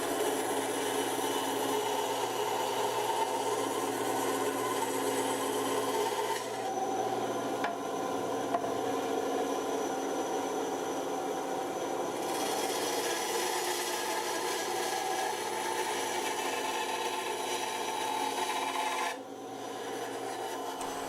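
A Ryobi 9-inch band saw cuts through birch hardwood in a long, steady rasping whir, loud and continuous, with brief changes in tone as the blade enters and leaves the wood.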